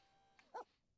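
A dog gives a single short, close yip or whimper, brief and fairly faint, over quiet background noise in a household setting with several puppies.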